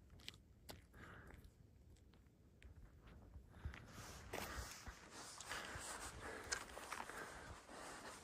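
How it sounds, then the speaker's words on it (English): Someone chews gum outdoors at Petrified Forest National Park, a faint, close, irregular run of soft wet chomps and mouth clicks over low wind and background hiss. "Hopefully they can hear me chewing the gum."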